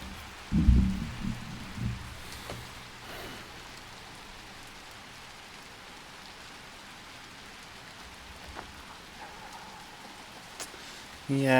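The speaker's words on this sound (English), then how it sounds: "it's a very rainy night" Steady rain hisses through a rainy night in the video game Little Nightmares 2, a constant soft wash of falling water with a few heavy thumps near the start and end.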